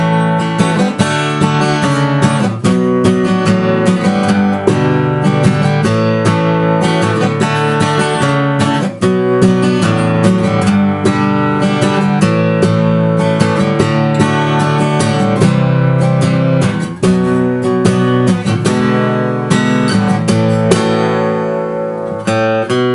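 Close, loud acoustic guitar strumming through the chords of a song, with even, driving strokes and full ringing chords that continue unbroken before easing off at the close.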